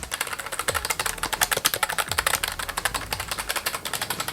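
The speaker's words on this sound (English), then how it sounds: "I do want to show you guys how loud the keyboard is when you guys actually use it." Fast, continuous typing on an NPET WK10 ultra slim wireless keyboard, a dense stream of crisp clicking keystrokes close by and moderately loud, with occasional heavier key thumps.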